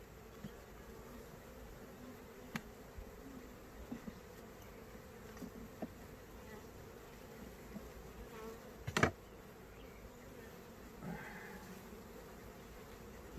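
Honeybees hum faintly around an open hive during an inspection, a thin, steady buzz with a few soft knocks and one sharper clatter near the middle.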